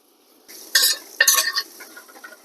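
Brown rice stirred in a pan with oil, fresh garlic and onions, frying with a soft sizzle under two louder bursts of scraping stir strokes, then a lighter crackle continuing.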